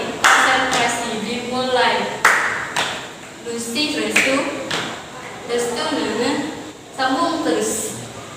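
Students in a school group guidance session clap in rhythm during a name game, with sharp hand claps sounding repeatedly among lively voices calling out names.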